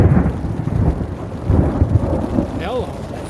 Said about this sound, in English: It's a thunderstorm moving through.